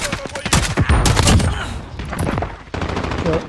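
Video game gunfire at range: clustered automatic bursts and single shots in uneven rhythm, fairly loud and continuous across the moment.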